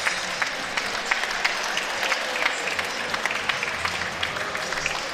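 Steady applause from supporters in the crowd at a netball match at an indoor championship, a dense continuous patter of many hands clapping at a distance for several seconds.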